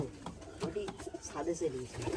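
Pigeons on a rooftop give soft, low cooing calls in short bursts, nearby and moderately quiet, with birds moving between the roof and tin sheets.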